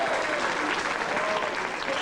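Comedy club audience at a stand-up show answers with applause, a steady wash of many people clapping that carries on evenly for a couple of seconds.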